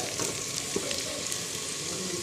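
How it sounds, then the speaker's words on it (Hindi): Small onion slices fry in a pan, giving a steady close sizzle with light crackles and stirring. "अभी हम इसमें प्याज डालेंगे, ये जो हमने छोटे छोटे स्लाइसिस में काट लिया, अभी हम इसमें डालेंगे।"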